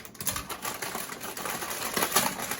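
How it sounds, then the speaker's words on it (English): Rapid crinkling and snipping of scissors cutting open a plastic bag of clams in a kitchen, close and steady, with no voices. "We're gonna use our scissors"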